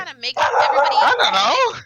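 A dog barks and yips briefly in the background while a person keeps talking over it.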